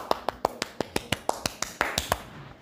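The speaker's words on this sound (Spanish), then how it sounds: "Aplausitos." Small, light hand claps, about a dozen crisp, evenly spaced slaps in a steady rhythm, close and clear, with nothing else behind them.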